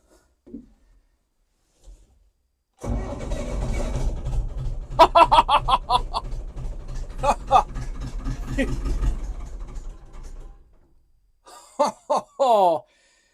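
Old Massey Ferguson 1085 tractor engine cranking and catching, then a low steady diesel rumble for several seconds before dying away, with a voice speaking briefly at the end.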